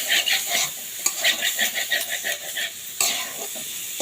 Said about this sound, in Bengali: এই তো সজনার ফুল ভাজিটা প্রায় হয়ে এসেছে, আর সামান্য একটু ভাজবো আমি।